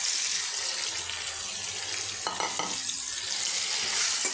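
Chopped onions, salted and mixed with turmeric and dried chilli, frying in mustard oil, a continuous close sizzle with a few scraping stirs of a spoon in the pan midway.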